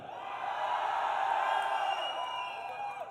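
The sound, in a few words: crowd cheering at esports arena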